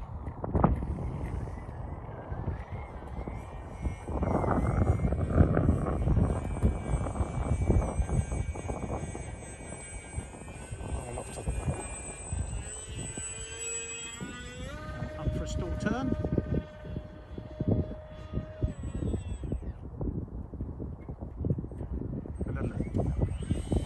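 A Top Quark model aircraft flying in the wind, its motor whining and shifting pitch at a distance under steady wind buffeting, while people talk nearby.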